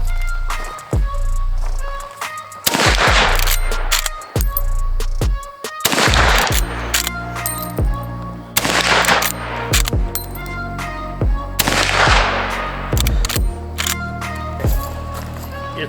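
Gunshots fired at an outdoor shooting range, a series of loud sharp reports spaced irregularly, some in quick pairs, with people talking between shots.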